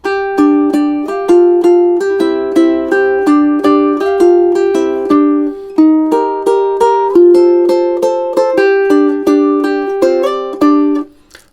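Ukulele strumming a chord riff in a steady, bouncy rhythm, each chord bright and plucked, played close and alone, ending with a final strum.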